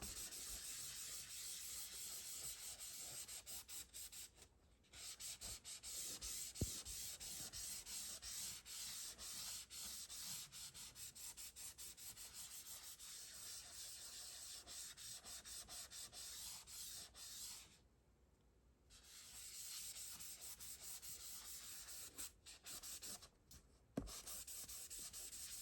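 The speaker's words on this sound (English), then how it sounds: "I'm going to buff this side where we had the wax on it." A cloth buffs wax on the surface of a watercolor painting sealed with Dorland's wax, producing a steady close rubbing hiss with brief pauses, alone without talk.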